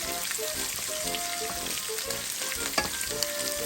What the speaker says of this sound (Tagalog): we have to stir it until our garlic and onion is turned like light brown